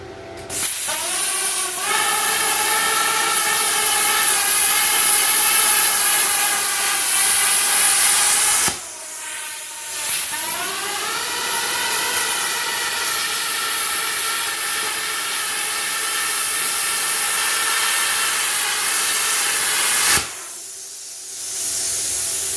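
ArcCaptain Cut55 plasma cutter slicing 1/8 inch steel roll bar tubing, a loud steady hiss with a high tonal whine, broken by two brief stops and restarts.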